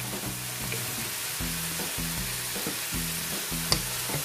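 Green beans stir-fry in a hot pan seasoned with salt and black pepper, giving a steady close sizzle with scraping stirs, under a low background of music.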